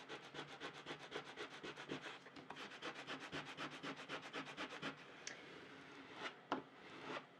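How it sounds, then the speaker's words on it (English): A small squeegee rubs back and forth, pressing Cricut vinyl onto a transfer sheet in quick, rhythmic scraping strokes that pause, then return as a few isolated scrapes, close and fairly quiet. "I'm just going to take this little squeegee"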